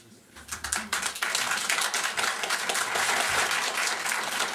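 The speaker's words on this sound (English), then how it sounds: "I must remind the audience that there shall be no clapping" An audience in a county board meeting chamber breaks into applause. The clapping starts thin and quickly swells into a dense, steady roar of many hands that holds at full volume for several seconds.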